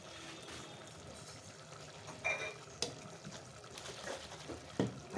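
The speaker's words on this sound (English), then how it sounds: "I have poured 2 glasses of water in the mixie jar and I'm pouring that in." Water poured from a blender jar into a pot of pumpkin curry (kadu salan) seasoned with rock salt gives faint, intermittent splashes and liquid sloshing over a quiet background, with a few louder bursts toward the middle and end.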